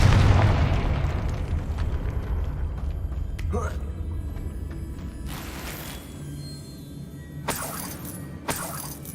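A Confringo blasting spell detonates in Hogwarts Legacy with a loud, deep booming explosion that rumbles and slowly decays, followed by scattered lighter crackles and pops.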